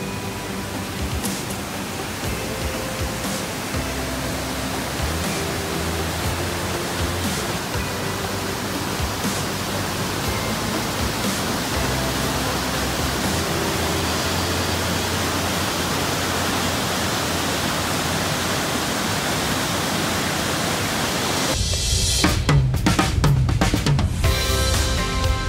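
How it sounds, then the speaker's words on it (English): The powerful Salto El León waterfall near Pucón, Chile, roars as a continuous, dense rush of falling water, with some nearby clattering near the end. "Salto El Léon is a stunningly powerful waterfall, an easy walk from a small car park."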